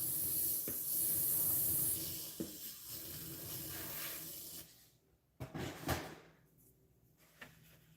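Airbrush spraying in short bursts, a loud airy hiss for about two seconds, then softer intermittent sprays and clicks separated by near-silence.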